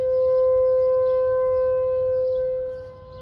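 A civil defense siren sounding for a tornado warning wails a few blocks away on a humid day, a steady loud tone with harmonics holding throughout before easing off at the end.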